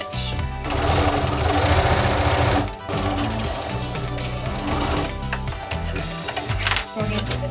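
A sewing machine runs steadily, back stitching along the edge of a pocket, with a brief pause near the three-second mark before it continues in shorter bursts of stitching.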